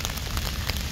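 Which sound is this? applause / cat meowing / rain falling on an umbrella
rain falling on an umbrella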